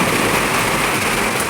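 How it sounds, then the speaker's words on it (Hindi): Heavy rain pours down in a dense, steady roar, loud and close, with no breaks. No voices are heard. "क्योंकि बहुत ज़्यादा बारिश हो रही है, बहुत ज़्यादा"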